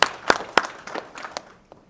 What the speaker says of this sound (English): Let's get a round of applause for Claude